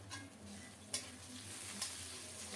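Whole cinnamon, cardamom pods, two cloves and a torn bay leaf frying in oil in a pan for egg curry, a steady low sizzle with two sharp scrapes or pops, no talking.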